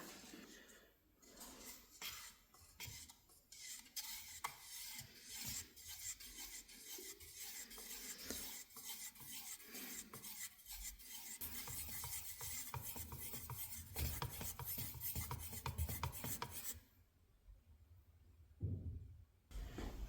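A can of green paint is stirred by hand, making a close, rhythmic scraping and rubbing as the stirrer drags around the can, then quieter, sparser scrapes near the end.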